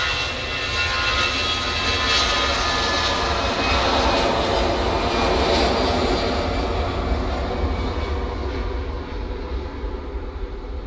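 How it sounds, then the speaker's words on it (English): A small Pilatus PC-12 turboprop landing at Manchester Airport after a flight from Birmingham, its steady, loud engine roar filling the whole stretch and swelling slightly mid-pass before easing off. "That was a little PC-12 that landed from Birmingham."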